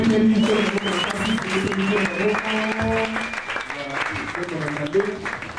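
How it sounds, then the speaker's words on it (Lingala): Church congregation applauding together during a sermon, a sustained wash of clapping from many hands with voices mixed in underneath throughout. "Acclamons encore une fois."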